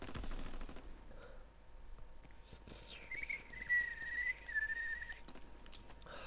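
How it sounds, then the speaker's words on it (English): An M3 grease gun submachine gun fires in short bursts in a WW2 shooter, set against a whistling tone and background battle noise. "This fucking grease gun."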